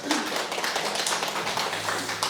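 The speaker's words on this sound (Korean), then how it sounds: "우리 한번 박수 한번 하겠습니다" Church congregation clapping together during a Sunday worship service, a steady dense patter of many hands at moderate level, with faint voices mixed underneath.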